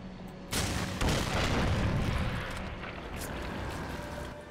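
An explosion in the video game Darksiders 2 hits as a sudden loud boom, then a long rumbling roar that slowly fades.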